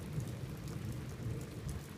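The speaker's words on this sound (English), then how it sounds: "And that's thunder right here in the background." Low, steady thunder rumbles in the background with soft rain noise, quiet and continuous throughout, no voices.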